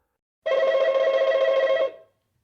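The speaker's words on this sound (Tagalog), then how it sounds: "Kinuha niya ang kanyang phone at tumawag kay Mr. Castillo" A telephone rings once in a steady, trilling electronic burst lasting over a second, clear and close, then falls silent.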